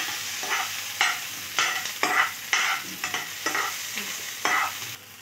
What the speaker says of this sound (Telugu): ఇలా కొంతసేపు మనం ఫ్రై చేసుకుందాం.